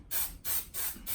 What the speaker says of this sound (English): Buy a low-tack repositionable spray adhesive, and the way you use this is you spray it on the back of your stencil